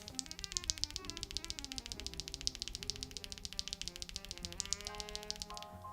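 A GravaStar V60 Pro keyboard with lubed Hall effect switches is typed rapidly and steadily, giving a dense run of crisp, close clicks and clacks that ends in a short flurry.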